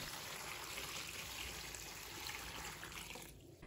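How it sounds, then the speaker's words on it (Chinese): Clean water pours steadily into a basin holding king oyster mushrooms, a faint, continuous wash of running liquid with no talking, easing slightly toward the end. "倒入清水"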